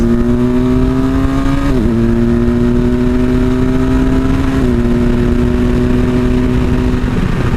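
A 2017 BMW R1200 GS Adventure motorcycle engine runs loudly and steadily while riding, its drone holding a constant pitch with two brief dips where gears shift, close and continuous.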